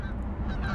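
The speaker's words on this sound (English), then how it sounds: "Here come the goose in." Geese honking as a flock flies in over spring fishing water, a steady loud outdoor clamor of overlapping calls with no talking.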